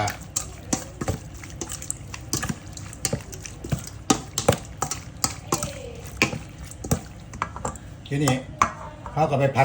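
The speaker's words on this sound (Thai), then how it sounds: "ทีนี้เขาก็ทำการขัวเครื่องแกงครับ" Curry paste stir-fried in a pan for turmeric curry fish, with repeated sharp clacks and scrapes of a utensil against metal, close and irregular, over quiet sizzling with a voice talking at times.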